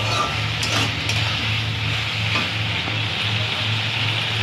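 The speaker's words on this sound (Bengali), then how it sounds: "এরপর আমরা দেবো কাঁচা লঙ্কা দিয়ে আবার ভালো করে আমরা কষিয়ে রান্না করে নেব" Grated ginger and green chillies frying in a pan for pumpkin chokka, a loud continuous sizzle with a low steady hum beneath and soft scraping stirs, close up and without speech.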